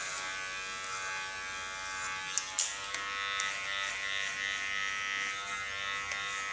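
Electric hair clippers shaving the side and nape of a woman's head for an asymmetric cut: a steady high-pitched motor buzz running throughout, with brief clicks and bumps as the blade moves against the skin.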